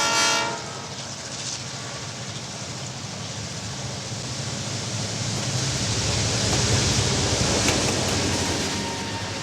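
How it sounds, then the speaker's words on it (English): A train sound effect from a 1988 library sampler starts with a short horn blast, then gives way to a loud, steady rumble of rolling rail cars with faint clatter. "From trains,"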